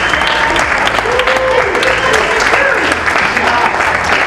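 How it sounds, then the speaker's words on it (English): Event audience gives the organizers a loud, sustained round of applause, close and dense, with a few voices faintly audible in the crowd. "please give Miranda and Joe a round of applause for this phenomenal event that they put on"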